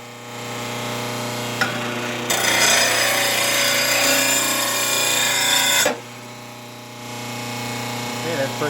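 RBG712 blade sharpener grinding a lawn mower blade, a steady loud abrasive grind of about three and a half seconds over a constant motor hum, with the machine running alone before and after the pass.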